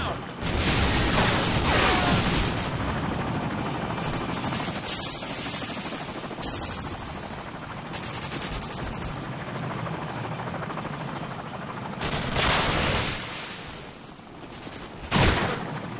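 Helicopter rotor thudding steadily through a Call of Duty 4 multiplayer match on the Backlot map, with bursts of gunfire and loud shots rising near the end over the constant drone.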